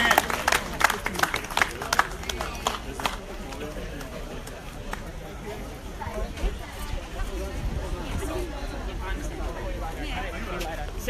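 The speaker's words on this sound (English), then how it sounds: "Give them a round of applause, ladies and gentlemen" Scattered crowd clapping and chatter outdoors after a house sells at a Melbourne real estate auction, starting in a loud burst and thinning into a low, steady murmur of voices and footsteps.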